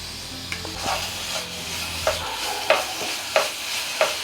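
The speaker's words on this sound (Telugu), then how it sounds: "ఇప్పుడు ఎర్రగడ్డలు బాగా వేగినాయి, దీంట్లో 1 స్పూన్ అల్లం వెల్లుల్లి పేస్ట్ వేసుకోవాలి." Ginger-garlic paste stirred into well-fried onions in a pan while cooking prawn biryani; a soft sizzle underlies sharp, evenly spaced scraping clicks of a spoon against the pan, with no talking.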